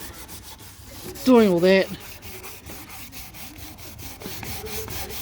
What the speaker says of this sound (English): Give it a good sand,